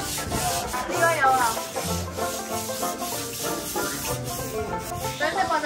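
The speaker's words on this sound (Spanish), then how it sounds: "Entonces con esta lija uno empieza así." Hand sanding of wood with sandpaper during house construction, with steady rubbing strokes sweeping back and forth at close range over a continuous scratchy hiss, and background music underneath.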